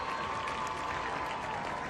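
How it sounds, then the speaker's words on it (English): Stadium crowd at a college football game clapping, a dense, steady wash of applause from many hands, fairly loud and continuous for a brief moment with no talk over it. "Let's give a round of applause, ladies and gentlemen."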